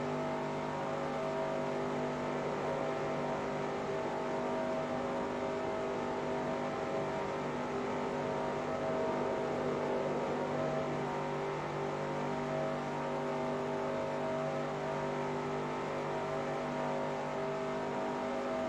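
NASCAR stock cars from the 2004 season racing in the Daytona 500 at Daytona International Speedway, simulated in the NR2003 racing game: a steady, loud engine drone holds unbroken throughout with no clear passes or pauses.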